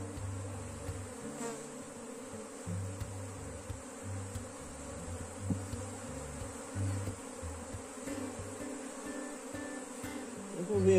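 A honey bee swarm in a hive buzzes in a faint, steady drone that pulses gently, with no voices over it.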